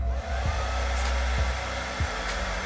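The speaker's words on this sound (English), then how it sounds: "we're just going to use the blow dryer again to set that." A handheld blow dryer runs steadily at close range to set freeze spray along the edge of a bald cap at the hairline, a continuous whirring roar with faint shifts as it is moved.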